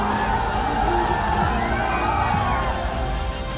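A dense crowd roars and cheers without pause at a Samajwadi Party election rally in Jaunpur, Uttar Pradesh, with scattered shouts and whoops rising over the steady wall of noise.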